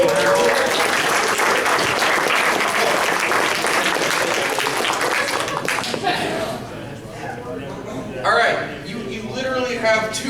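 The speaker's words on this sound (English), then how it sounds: "give a round of applause" A college audience at an alcohol appreciation event breaks into loud, dense clapping for about six seconds, then the applause thins and fades as a voice and some laughter take over.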